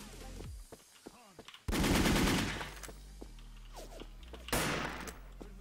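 Machine gun fire in the Wolfteam shooter game rattles out in two loud dense bursts, the first lasting about a second and the second shorter, amid scattered game sounds and brief quieter passages.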